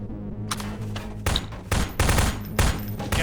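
Gunfire in the Half-Life: Suppressed video game comes as several loud, close bursts of automatic shots in quick succession, separated by short pauses, with a low game hum underneath.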